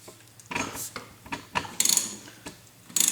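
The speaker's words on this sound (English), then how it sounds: "trying to pull the bearing off. So we'll see how it goes. Let me get a bigger wrench." Wrench working a bearing off the motor rotor of a Yates American J180 during restoration, sharp close metallic ratcheting clicks arriving in several short bursts, with no talking.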